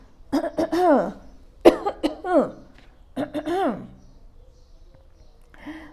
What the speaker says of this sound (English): But I'm coughing.